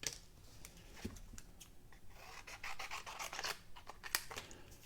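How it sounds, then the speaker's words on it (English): Paper snips cutting paper for card making, a run of faint, close, crisp snipping and scratching strokes spaced irregularly over a few seconds. "Okay, and then I'm going to grab my paper snips."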